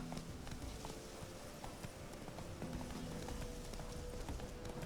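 Roach the horse galloping in The Witcher 3, a continuous rhythmic clatter of hooves over uneven terrain under a steady wash of game ambience, with no talking.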